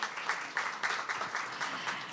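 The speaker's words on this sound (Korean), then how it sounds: "큰 박수 부탁드립니다" A conference audience at an energy research presentation session applauds, a short burst of dense, even clapping from a seated crowd at moderate level.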